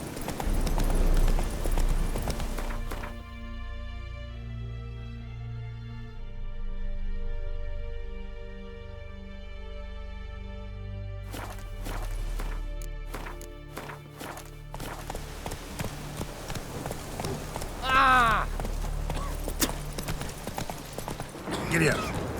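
Horse hooves pound a rapid, galloping rhythm in The Witcher 3, with crisp clip-clop on hard ground that pauses under a held musical tone before resuming, along with game ambience and a spoken voice.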